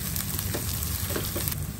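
Shallots, curry leaves and green chilies sizzle steadily in hot tempering oil for a Kerala-style pomfret curry, a dense close crackling hiss with small pops and no talk.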